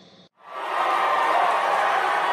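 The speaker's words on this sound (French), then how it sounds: "Un tonnerre d'applaudissements pour Alex." Applause and cheering from an audience for a singer named Alex coming onstage at a school talent show, rising quickly after a brief pause and holding a steady, dense wash of clapping.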